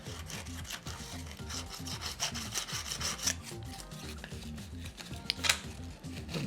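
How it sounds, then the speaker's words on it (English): Fine 600 grit sandpaper rubs lightly over a joystick's switch contacts, producing a steady rapid scratchy back-and-forth scraping, close and fairly soft, with no talk. "I'm just going to run some 600 sandpaper lightly on the contacts."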